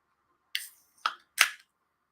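Three quick, sharp clicks and hisses in close succession as a beer bottle cap is pried and released, near and otherwise quiet.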